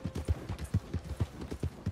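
Hooves of a horse in Red Dead Online clopping in a steady, evenly spaced rhythm, close and moderately loud, with no voices over the footfalls.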